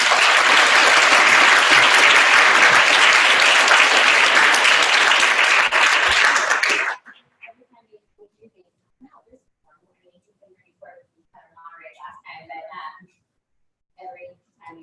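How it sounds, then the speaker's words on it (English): An audience at a breakfast panel gives a loud, sustained round of applause for about seven seconds, which cuts off abruptly, followed by quiet scattered voices. "If everybody would join us in giving them a round of applause"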